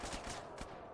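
Gunfire in the game GTA San Andreas Definitive Edition during a gang shootout, a couple of quick, faint shots and bursts set against a dense background of game noise.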